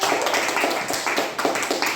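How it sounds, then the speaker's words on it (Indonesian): Elementary school class clapping for a group during a lesson, a short burst of quick, close hand claps in uneven rhythm from a small room of students. "tepuk tangan untuk kelompok 1"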